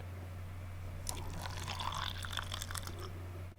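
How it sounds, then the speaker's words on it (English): Coffee poured as a film sound effect: a soft liquid stream enters after about a second and runs steadily, faint and close, over a constant low electrical hum. "And then have the coffee being poured."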